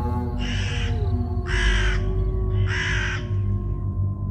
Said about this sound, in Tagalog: Biglang may uwak na tumutunog sa ibabaw namin noon.